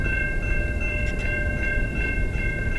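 The tail end of CN freight train 424 rolling past at milepost 77 on the Dundas Subdivision near London, Ontario: a loud, steady rumble with a sustained high metallic squeal and faint rhythmic clacks.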